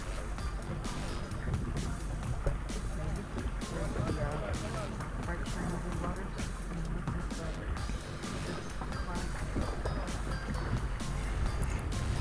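A speedboat engine drones steadily off Cozumel while the hull slaps and splashes through water, with wind rushing and people talking over it.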